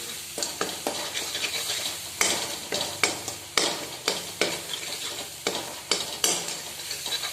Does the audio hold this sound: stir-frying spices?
yes